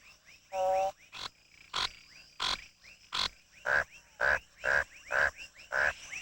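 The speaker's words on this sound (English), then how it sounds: "The frog's croak is not, as ancient peoples believed, the strangled cry of a newborn" Frogs give mating calls in a series of about ten loud, close croaks, evenly spaced roughly half a second apart, some with a rasping, buzzy quality, over quiet background.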